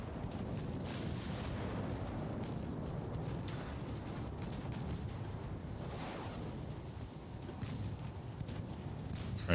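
Heavy naval guns boom continuously in the warship battle game Ultimate Admiral: Dreadnoughts, a dense, loud rumble of overlapping artillery fire and explosions sustained throughout, with no clear gaps.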